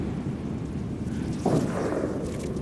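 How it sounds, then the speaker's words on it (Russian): A distant single gunshot echoes across the Kolyma mountains during a snow sheep hunt, a muffled boom rolling into a long fading rumble over steady wind noise. It is faint and far, with no speech. "Что за выстрел был?"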